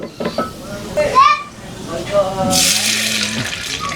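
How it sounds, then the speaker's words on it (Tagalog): Water is poured into a cooking pot for shrimp sinigang after the garlic has been sautéed, a hissing rush that starts partway through and continues steadily, preceded by talking and background children's voices. "So, sunod na natin lagay yung tubig."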